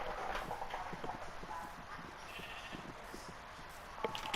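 Sheep shuffle and step in a Minecraft farm pen, a soft run of light clip-clop footfalls repeating across the scene with faint bleats, quiet and steady against a low game backdrop.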